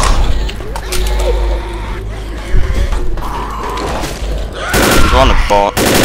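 Left 4 Dead zombie fight with bursts of gunshots cutting through a busy game mix, several sharp shots near the end, while people talk over the action.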